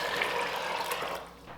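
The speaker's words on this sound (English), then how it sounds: "We're going to add water." Water pouring into an Instant Pot pressure cooker over rinsed soybeans, a steady close splashing rush that fades toward the end, with no speech.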